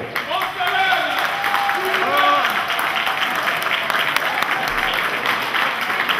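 A crowd at a community solidarity gathering applauds loudly and continuously, dense clapping filling the space while a voice speaks over it near the start.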